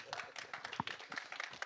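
Audience applause and clapping at a film trailer launch event for a Punjabi movie, a steady wash of many hands clapping with some crowd noise throughout.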